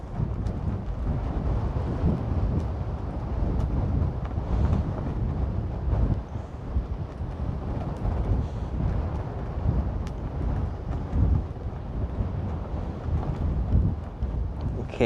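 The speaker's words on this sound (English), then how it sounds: "I'm trying because the wind is really heavy." Heavy wind buffets a microphone outdoors during a drone flight, a continuous loud low roar with gusting thumps and rumbles throughout, no one speaking.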